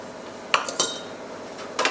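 Metal cutlery clinking against a dish while pasta is spooned into an oven-safe baking dish for a vegan cheddar bake, a few light, close scrapes and clinks.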